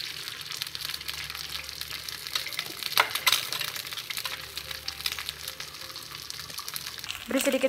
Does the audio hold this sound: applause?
no